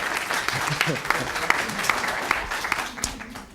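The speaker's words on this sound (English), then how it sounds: "Give her a round of applause." Audience applause at a Town of Hyde Park emergency preparedness meeting, a brief burst of scattered clapping from a modest crowd, with distinct individual claps and voices underneath.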